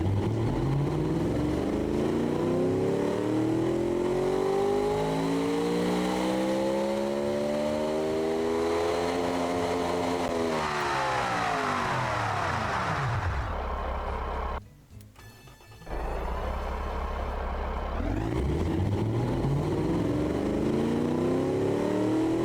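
A naturally aspirated V8 in the Automation car game revs up and down repeatedly, loud sweeping engine pitch rising and falling over and over, with a brief drop in sound partway through before it revs again.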